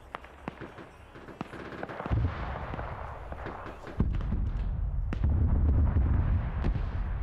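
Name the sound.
artillery shelling in the Arma 3 video game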